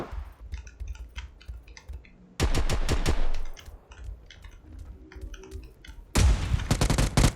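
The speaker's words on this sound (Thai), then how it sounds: "มีเสียงยิงจากฝั่งนี้นะครับ" Rapid bursts of automatic gunfire from a shooting video game, heard over a Creative Sound BlasterX G1 headphone setup, crack out loud in two long volleys between quieter scattered shots and faint talk.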